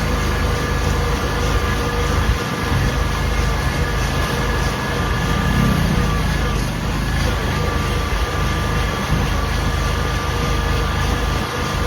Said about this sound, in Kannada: ಇದು ಮಂತ್ರಾಲಯ ರೋಡ್ ರೈಲ್ವೆ ಸ್ಟೇಷನ್ನು.